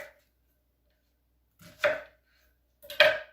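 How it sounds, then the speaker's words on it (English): Knife cutting an onion into chunks for a food processor, two distinct firm chops with a pause between them, close and fairly loud against near silence. "you cut the onion into 8 chunks"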